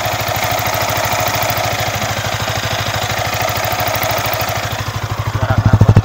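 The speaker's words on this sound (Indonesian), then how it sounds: "Suara mesin ya. Ini mic-nya tak dekatkan mesin." Close-miked Yamaha R15 motorcycle engine idles with a loud, even, fast thumping pulse and mechanical clatter, swelling slightly toward the end as the microphone moves nearer.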